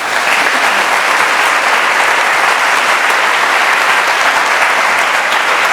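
An audience applauds to welcome speaker Erik Milam at a school new-families event, a steady, full round of clapping that stays loud and even throughout with no voices over it.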